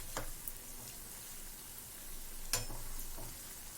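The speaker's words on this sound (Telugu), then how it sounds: "ఇలా బోండలాగా వేసుకుని రెండు వైపులా కాల్చుకుందాం." Mysore bonda frying in hot oil at medium flame, a soft steady sizzle with a few faint crackles and small clinks, quiet and close with no voices.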